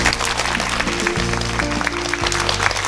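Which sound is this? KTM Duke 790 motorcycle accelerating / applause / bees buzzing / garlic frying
applause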